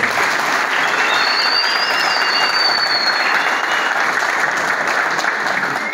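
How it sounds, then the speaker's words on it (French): Loud, sustained applause from a large crowd honoring the declarants at a gathering in Kasumbalesa, dense and even throughout, with a faint whistle rising briefly over the clapping. "Applaudissez pour les déclarants."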